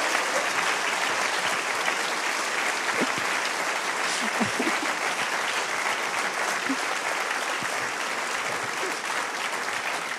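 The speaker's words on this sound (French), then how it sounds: "elle mérite des applaudissements" Continuous applause from an audience at a cultural meeting event, a steady moderate wash of many hands clapping with a few louder individual claps and faint voices mixed in.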